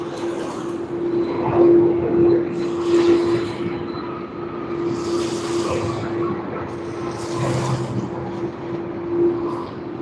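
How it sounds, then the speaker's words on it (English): A departing airliner at Sydney Airport, a distant, steady jet roar with a constant tone and broadband rumble swelling and easing over the ten seconds, no voices. "let's pan to the departing aircraft"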